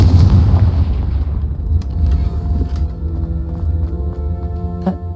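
Confringo blasting spell explosion in Hogwarts Legacy, a loud close rumbling boom that decays over a few seconds into softer game ambience with faint clinks and tones.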